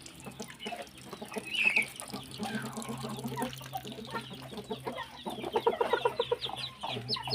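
Rhode Island chickens cluck and murmur in a backyard, soft intermittent clucks at close to mid distance over a faint steady background hum.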